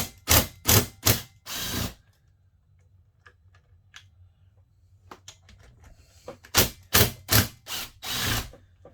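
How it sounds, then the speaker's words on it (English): Gearbox bolts being undone on a McCulloch 1-85 chainsaw with a ratchet, a rapid clicking ratchet run at the start and again near the end, with quieter scattered clicks between, close up. "I undid those 2 bolts up there"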